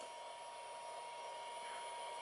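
A Flashforge Creator dual-extruder 3D printer runs with a steady, even whirring hum of fans and motors, moderately quiet and continuous throughout with no talking.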